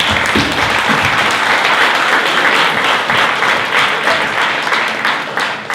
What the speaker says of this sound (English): So let's give a round of applause for Niall